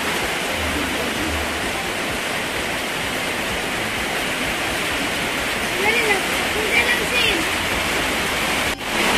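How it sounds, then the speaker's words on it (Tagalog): Heavy rain falls steadily, a loud dense wash of pouring water throughout, with a voice talking under it. "Medyo malakas po ang ulan po dito."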